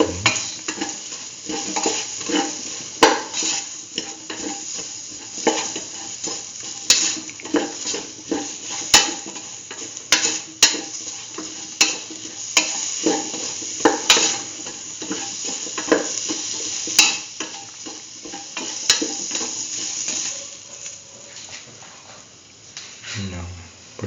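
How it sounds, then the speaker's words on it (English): Kidney bean and chayote stew being sauteed and stirred in a pan, with steady sizzling under repeated scraping and clinks of a utensil against the pot, close and continuous. "Thoroughly saute and mix."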